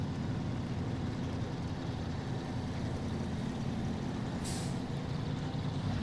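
A heavy truck in the SnowRunner video game grinds through a mud hole, its engine a steady, loud, continuous low rumble with a brief hiss partway through.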